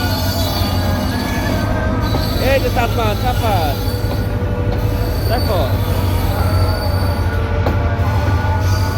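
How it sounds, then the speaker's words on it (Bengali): Two trains pass near Dhaka, one departing and one pulling into Kamalapur, in a constant heavy rumble with metallic wheel squeals rising over it while a voice speaks briefly. "এই যে দেখো এখন এই ট্রেনটা হচ্ছে ঢাকা ছেড়ে চলে যাচ্ছে, আর এটা ঢাকাতে ঢুকছে"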